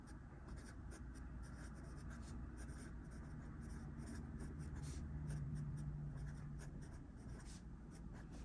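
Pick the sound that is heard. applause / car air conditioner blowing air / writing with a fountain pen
writing with a fountain pen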